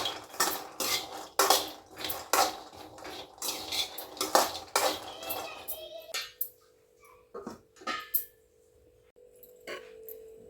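Food stirred and mixed in a metal pot in a home kitchen, with repeated loud clanks of a spoon against the pot that thin out to occasional knocks as a voice and soft talk come in.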